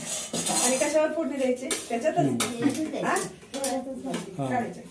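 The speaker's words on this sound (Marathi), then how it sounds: "ते आता त्या एका प्लेट मध्ये काढून घेत आहे." Food is transferred onto a plate, and dishes and cutlery clink and scrape at close range. A person keeps talking over the clatter throughout.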